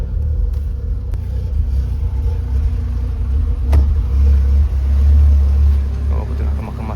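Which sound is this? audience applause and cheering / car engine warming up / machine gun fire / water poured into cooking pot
car engine warming up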